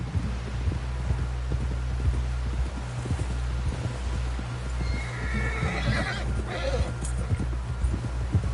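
A horse in Red Dead Redemption 2 whinnies near the end over steady clip-clop of hooves and a low droning rumble, all fairly close and continuous.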